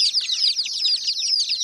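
Desi village chicks and their hen at a water dish, with dense, rapid high-pitched peeping and chirping that runs nonstop and close by.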